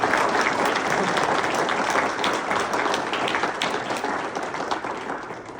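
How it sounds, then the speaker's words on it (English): Sustained audience applause at a celebration gathering, a dense, even wash of many hands clapping that tapers slightly toward the end. "let's give her one more big round of applause"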